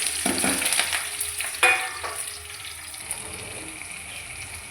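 Onions frying in hot oil in a wok for mutton korma, a steady sizzle with brief stirring scrapes and clinks, close and moderately loud, no voices.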